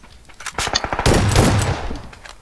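Gunfire in the battle game PUBG: a rapid burst of automatic shots followed by a denser, louder volley, close and sharp, with the fire fading into a short tail at the end.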